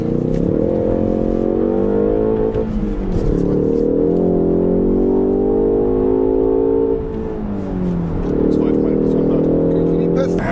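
Ford ST running on autogas (LPG), its engine droning loudly from inside the cabin and rising in pitch as it accelerates through several gears with brief dips at shifts, while people talk over it.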